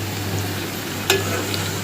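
Aloe vera, tulsi leaves, fenugreek and black cumin heating in coconut oil on a low flame, giving a soft, even sizzle with a single sharp clink near the middle and no voices.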